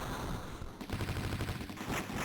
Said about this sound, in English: Gatling gun kind of thing.